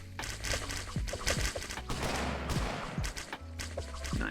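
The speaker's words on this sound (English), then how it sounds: "the hand cannon dudes are getting some good shots in on these juggernauts" Rapid hand cannon gunfire in the video game Colony Survival, a dense clatter of repeated booming shots and impacts fired at juggernaut enemies, loud and continuous over a rumbling battle background, without talk.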